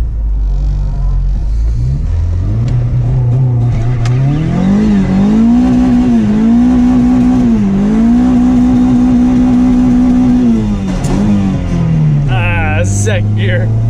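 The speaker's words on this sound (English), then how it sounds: "Going to test out the H22. We're going to try to do a little peely for you." A Honda H22 engine swapped into an Acura EL drones and revs up through rising pitch sweeps, holding high before dropping back, loud and close with a brief tire squeal near the end.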